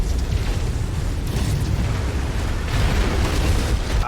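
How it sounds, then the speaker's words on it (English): A huge explosion in the MechWarrior 5 video game erupts as a dense, sustained low rumble that swells and keeps roaring for several seconds, loud and close, with no talk over it. "That was a big explosion."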